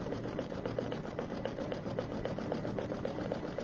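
Embroidery machine satin stitching on an Easter egg zipper bag project, a steady fast mechanical whir with rapid needle ticks running continuously at moderate level, no talk.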